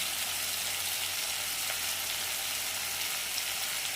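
Green beans (chikkudukaya) and brinjal curry fry steadily in a pan, giving a continuous, even sizzle throughout with no talking.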